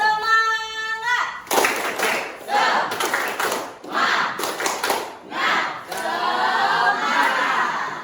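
After a voice calls out, a group of teachers at an education jamboree claps a rhythmic spirit clap, sharp synchronized bursts in a patterned sequence with shouts mixed in, ending in a sustained crowd cheer.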